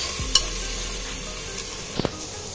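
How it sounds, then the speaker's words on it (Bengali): Onions fry in a large pressure cooker, making a constant soft sizzle with a couple of sharp metallic clinks from the utensil against the pot. "এখন বড় কুকারটাতে পেঁয়াজ আগে ফ্রাই করে নিচ্ছি।"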